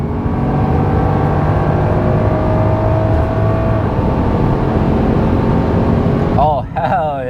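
BMW F10 sedan pulling hard at full throttle, a loud sustained engine roar climbing steadily with a brief gear-shift dip near the end, with a voice cheering over it.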